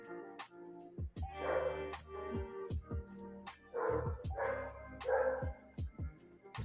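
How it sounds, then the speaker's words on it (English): Several dogs bark in repeated bursts, a mix of deep woofs and higher yips, fairly close and loud, with short gaps between volleys. "Dogs are barking."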